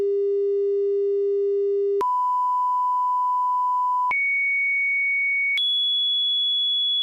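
Pure electronic test tones stepping upward in pitch, four steady sustained beeps in turn, each held one to two seconds, clean and alone.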